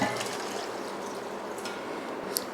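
Water poured into a cooking pot holding chillies, turmeric and tomatoes, a steady splashing gush lasting a couple of seconds, fairly close and with no talking.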